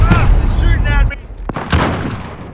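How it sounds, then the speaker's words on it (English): Gunfire in Call of Duty on the Shoot House or Shipment map: a booming burst of shots, then a few sharp separate cracks, with in-game voice callouts mixed in. "Taking fire."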